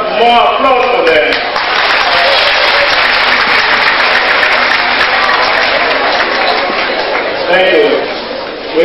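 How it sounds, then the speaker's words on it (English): An audience applauds at a hospital management welcome event in Lagos, a loud, sustained wash of clapping with a voice over a microphone at the start and end. "Please, can we have more applause for them?"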